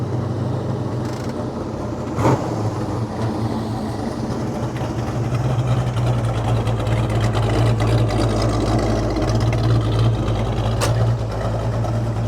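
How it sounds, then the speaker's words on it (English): A 1968 Plymouth Road Runner with a 426 HEMI V8 idles steadily, a deep, even rumble with a constant low drone holding at a close, fairly loud level for the whole stretch, with no talk over it. "I'll just leave it running."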